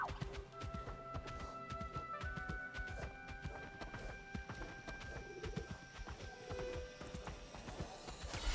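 Horse hooves clip-clopping in a steady walking rhythm in the video game Palia, with neighs and game music layered over the continuous footfalls.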